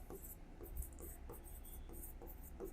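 Chalk or marker strokes scratch across a board in a classroom maths lesson, a soft, steady series of short rubbing strokes at low level, with no voice over them.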